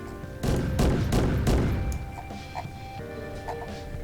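An armor-piercing high-explosive autocannon on a tank in Garry's Mod fires a quick burst of four or five heavy, booming shots, followed by quieter mechanical sounds and faint tones.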